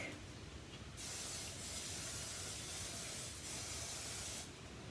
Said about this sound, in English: I'm just going to give it a little bit of a spray here so it doesn't stick